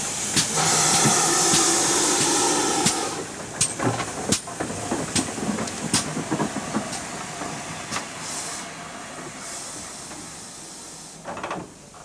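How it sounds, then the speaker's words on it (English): A steam train on the line up the River Dart to Buckfastleigh hisses loudly with steam, then rumbles along with repeated clanks and knocks of the carriages, fading slightly toward the end. "So, by steam train up the River Dart to Buckfastleigh."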